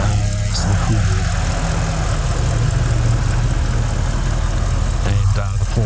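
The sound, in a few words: 2013 Porsche Cayenne Turbo V8 engine idling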